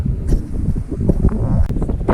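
Strong wind buffets the microphone in loud, low rumbling gusts throughout the short stretch.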